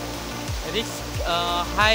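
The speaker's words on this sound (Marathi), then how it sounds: "अलिबागमध्ये आपण एक वॉटरफॉल एक्सप्लोअर केलेला आहे" A waterfall in rocky, wooded country near Alibag sends up a steady broadband rush of water, with a voice heard faintly over it.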